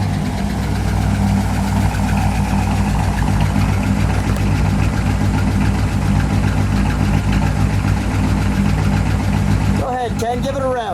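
Supercharged 1957 Ford Fairlane 500 Skyliner with F-code engine idling, a loud, steady, close-up rumble with an even lumpy pulse throughout, ending with a brief faint squeak.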